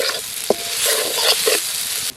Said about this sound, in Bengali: পেঁয়াজ আর রসুনটা ভালো করে এবার ভেজে নেব একসাথে।